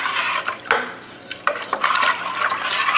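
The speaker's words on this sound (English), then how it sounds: "Give it a stir" A spoon stirs molasses brine in a pot for cured ham hocks, with scraping clinks against the metal, a sharp knock early on, and steady swishing liquid underneath, close and moderately loud.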